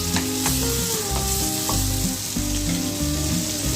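Tomatoes with salt sautéing in oil in a pan for a Tamil vegetarian sambar and rasam meal, giving a steady close sizzle and crackle with occasional stirring scrapes, and no talking.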